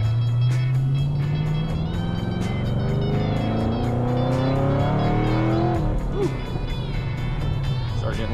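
A Chevrolet Camaro revs hard and accelerates with its engine note climbing steadily, tires briefly squealing as the wheels spin, loud and close with a person talking over it.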